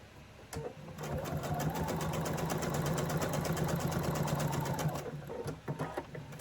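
A sewing machine stitching quilt blocks runs in a fast, steady mechanical whir with rapid needle clatter. It starts, holds a continuous run for about four seconds, then stops, with a few clicks before and after.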